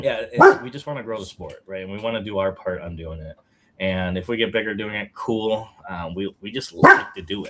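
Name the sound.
dog barking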